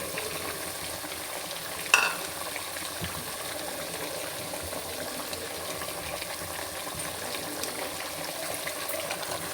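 Meat and potatoes fry in a spiced masala, giving a continuous, even sizzle close by with one brief clatter near the start and no talk.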